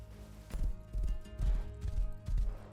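Rhythmic hoofbeats of a horse galloping in the video game Rust, heavy repeated thuds at a steady pace, close and fairly loud, with no talking.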